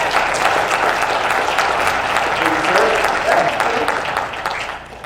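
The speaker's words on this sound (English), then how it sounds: "let's give a big, warm round of applause for Mr." A warm round of applause greets a guest speaker at a realtor business development event, dense and continuous clapping that holds steady, then starts to fade near the end, with faint voices underneath.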